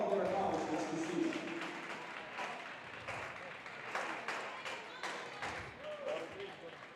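A crowd in a high school gymnasium claps for a basketball team at a home game, scattered uneven applause with sharp individual claps and some crowd noise, mixed with talking nearby.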